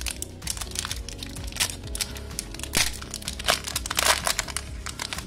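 A Pokémon TCG Crimson Invasion booster pack is torn open close by, its foil wrapper crinkling and crackling in a dense run of sharp rustles, with a few louder rips, and no talking.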